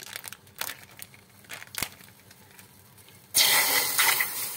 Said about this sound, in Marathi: त्यामध्ये आपल्याला दूध टाकून घ्यायचं आहे।